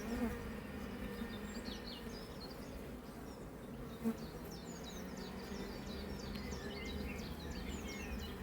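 Honey bees buzzing around an open hive during a colony inspection, a faint continuous hum with a few distant bird chirps above it.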